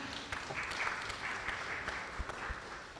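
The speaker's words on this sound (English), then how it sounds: "A hand of applause to our incredible panel" Audience applause for a panel at the close of an innovation discussion event, a steady, moderately quiet wash of clapping hands that holds evenly throughout.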